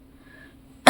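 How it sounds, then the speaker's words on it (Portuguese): A woman gives a single sharp, loud cough at the very end, bursting out of near silence. "Olha a tosse."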